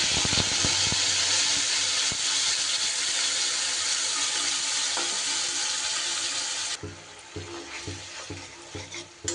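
Spice paste sizzles loudly in hot oil for a cauliflower curry, a dense steady frying hiss with a few stirring knocks, dropping to a quieter crackle near the end.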